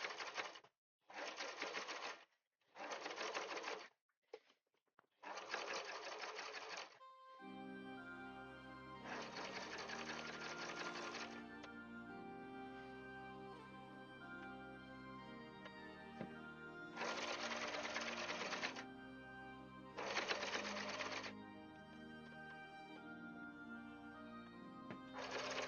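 Sewing machine stitching through very thick layers while finishing an edge on a custom-made project, in several loud bursts, first separated by silence and then set against a steady background hum.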